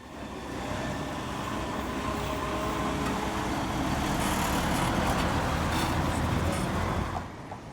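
Cars, vans and trucks passing through a Dutch intersection, a continuous broadband traffic roar swelling steadily as vehicles go by, then fading at the end.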